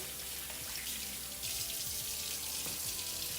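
Tap water runs into a sink as hands are rinsed under it, a steady close splashing that brightens and grows louder partway through, with no talk.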